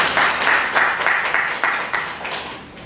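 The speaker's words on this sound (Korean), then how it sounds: "그런 의미로 박수 한번 보내실까요?" An indoor audience at a Korean citizens' consumer forum claps together in a fairly rhythmic, moderately loud burst of applause that tapers off over a few seconds.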